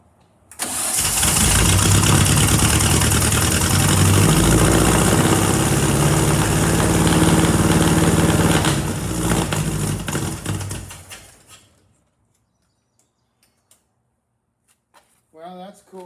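A 1927 Bugatti engine, primed with fuel poured into the carburetor, cranks and catches, then runs loudly and roughly up close for about ten seconds before dying away, leaving near silence and a brief faint voice at the end.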